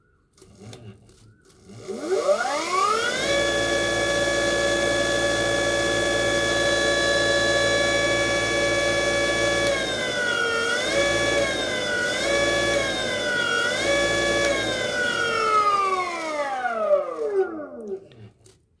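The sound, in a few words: 48/60V 2000W BLDC motor running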